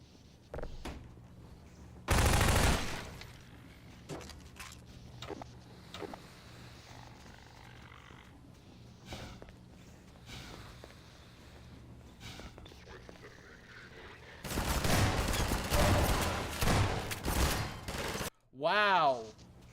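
Shotgun blasts in Half-Life 2, with loud broadband bursts near the start and a longer burst of repeated firing toward the end, separated by quieter game ambience.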